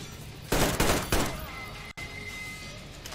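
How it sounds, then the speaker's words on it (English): Shotgun blasts in the post-apocalyptic shooter Metro Exodus: two loud, heavy booms about half a second apart, each with a short rolling tail, then a lower sustained rumble of gameplay ambience. "Using shotgun, eh?"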